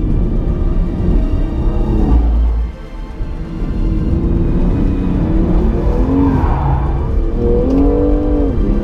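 A BMW M2 Competition slides sideways under hard driving, its engine revving and rising with tires squealing and scrubbing, loud and close throughout with a short dip midway and no talking.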